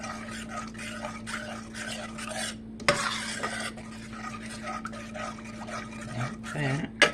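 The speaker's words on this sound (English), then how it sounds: "So what I'm going to do is stir that up." An onion mixture for chicken enchiladas is stirred in a pan over low sizzling, with a spoon scraping and tapping against the metal in short repeated strokes. A steady hum runs underneath and one sharp clatter stands out.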